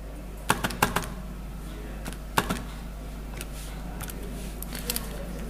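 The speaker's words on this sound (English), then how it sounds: "Type all that in the calculator." Calculator keys pressed in quick, light clicks during a GCSE physics energy calculation, a few sharp taps scattered over a few seconds with quiet pauses between them and a low steady background hum.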